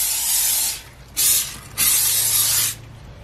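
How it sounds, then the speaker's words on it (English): Olive oil cooking spray hissing into a crock pot in three bursts, the first longer, then two short sprays after brief pauses, close and fairly loud with no talk. "I'm going to go ahead and spray my crock pot with some olive oil spray."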